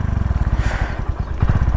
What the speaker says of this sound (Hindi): बाइक स्टार्ट करी हमने